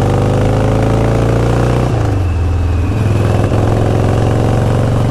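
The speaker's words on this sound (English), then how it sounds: "for a Harley that fires up and runs, it's really hard to beat that." A 1983 Harley-Davidson Ironhead motorcycle engine running steadily nearby, a loud, constant rumbling idle with a slight dip partway through and no voices.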